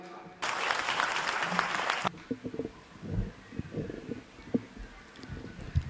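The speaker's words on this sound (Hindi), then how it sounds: "जोरदार तालियां" An audience at a Hindi poetry recital breaks into a short round of applause that lasts under two seconds, then stops abruptly, leaving scattered thumps, shuffling and faint room noise.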